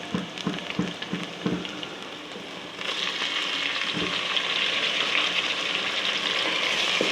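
Tomatoes dropped into a pan of frying garlic-ginger paste for aloo chicken salan: a few sharp knocks and clatters, then a sudden loud, steady sizzle that keeps going, with no talking.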